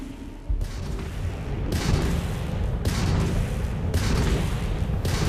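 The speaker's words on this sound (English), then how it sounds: "we can lock in to fire a homing missile" Weapons fire in a Starfield space battle as a homing missile launches at an enemy ship: a sudden loud blast followed by repeated heavy booming bursts at roughly one-second intervals.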